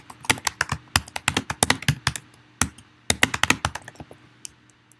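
Quick bursts of keystrokes on a computer keyboard, entering text in a craft cutting design program, sharp close clicks in uneven runs with short pauses between groups, no voices.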